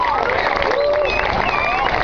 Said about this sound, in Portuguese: Vamos aplaudir aí